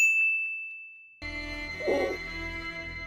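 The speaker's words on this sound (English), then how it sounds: "Ring glinting sound effects helps us the viewer know that the ring is glinting" Ring glinting sound effect in the anime Overlord, a single clear bright ding that rings out and fades, followed by a cut to a low background music bed.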